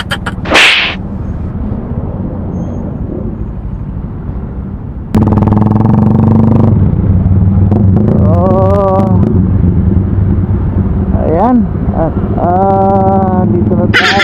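Manila street traffic heard from a Honda Supremo 150 motorcycle in motion, with a steady engine and road rumble, wind buffeting and passing vehicles, and a louder surge midway. A voice speaks briefly near the start.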